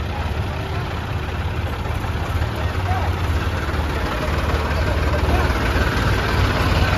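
A tractor engine idles steadily throughout, a low continuous rumble that stays close and fairly loud with no breaks.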